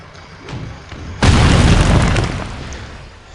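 A defeated brain tank boss explodes in the video game Psychonauts, one sudden loud broadband boom that holds steady for about a second and then slowly fades, with faint game sounds before it.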